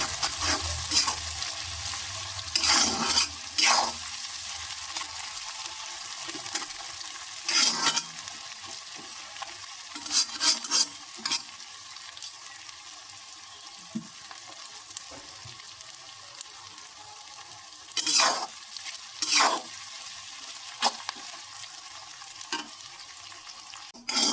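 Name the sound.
onions frying and being stirred in a wok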